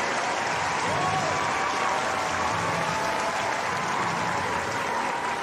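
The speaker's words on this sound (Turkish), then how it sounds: "Alkışlıyoruz kendisini." Sustained applause from a group of people, a dense, even wash of clapping at steady volume throughout, with no talk heard over it.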